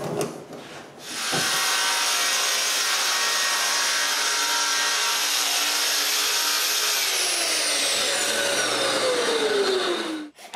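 A power saw trims excess wood off the back panel of a nine-drawer dresser, a loud continuous close-up cutting whine held for several seconds before spinning down, with a brief start and stop at the edges.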